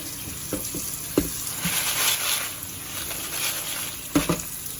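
A pot of water bubbling and simmering on a stove before LECA clay pebbles go in, a continuous hissing burble with occasional louder pops and clinks, fairly close, no voices.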